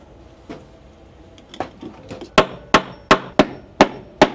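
A hammer drives staples to clamp 6-3 electrical wire at a sub-panel install: light taps at first, then a steady run of sharp, loud, ringing blows, close by.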